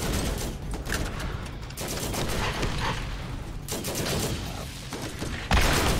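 Laser fire spraying from an enemy's mouth in Borderlands: a dense, continuous crackling stream of rapid shots with brief gaps, ending in a sharp louder burst.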